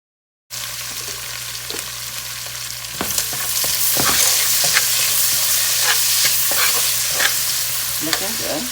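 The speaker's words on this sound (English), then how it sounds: "Okay, this has been frying for a while." Ingredients for Haitian black rice with cashews and dried shrimp frying in a pan, a steady close sizzle with stirring scrapes and clinks that grows louder partway through.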